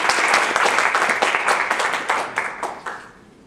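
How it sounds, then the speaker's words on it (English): An audience applauds a student, loud dense clapping that holds steady at first and then thins into a few last claps as it fades out. "let's give Virginia a round of applause"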